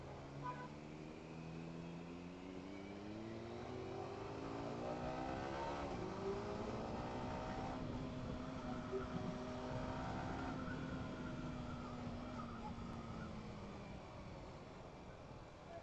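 A Triumph Speed Triple motorcycle engine revs and climbs in pitch with a steady, throaty drone that swells and then eases, heard fairly faintly at a distance.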